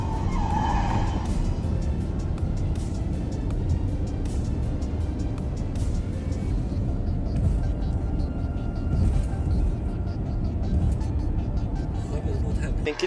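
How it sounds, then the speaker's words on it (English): A car skidding across a highway, tires squealing in a sustained screech with engine and road noise, loud and near, while a voice talks over it. "A car skids across the highway, barely avoiding a major crash."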